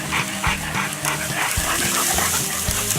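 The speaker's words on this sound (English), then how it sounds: "Look at all the dogs." Several hunting dogs bark, yip and whimper excitedly nearby, their noise continuous over background music.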